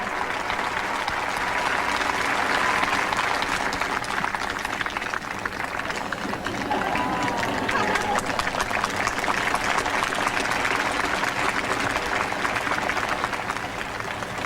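A crowd at an outdoor figure skating event in Sun Valley applauds a ladies' program, sustained, dense clapping that holds steady for several seconds, with scattered cheers mixed in.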